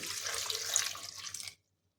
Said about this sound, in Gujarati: હવે આપણે એક ગ્લાસ પાણી લઈ લઈશું